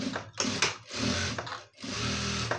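A sewing machine stitches a blouse in short close bursts, its motor whirring through three runs of rapid needle strokes, separated by brief pauses.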